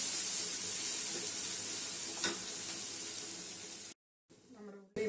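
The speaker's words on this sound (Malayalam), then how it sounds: "ഇനി നമ്മുടെ ഉള്ളിയൊന്നും ഫ്രൈ ആയി വരണം." Onions frying in a pan for palak paneer, a steady sizzling hiss with stirring that runs for about four seconds before a brief silence and a short return.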